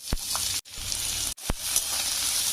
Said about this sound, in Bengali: এটা একটু ভেজে নেবো একসাথে কাঁচা লঙ্কাটা পেঁয়াজের সাথে ভেজে নেবে